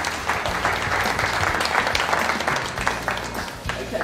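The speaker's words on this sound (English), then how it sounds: "You guys deserve a big round of applause for yourselves." A room of mentorship programme participants and guests gives a sustained round of applause, steady, fairly close clapping with a few voices beneath it.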